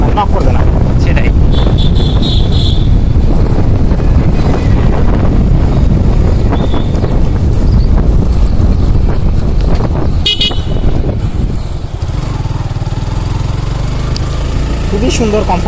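A motorcycle in fourth gear hums along in a loud, steady drone, heavily buffeted by wind noise, with a voice talking over it.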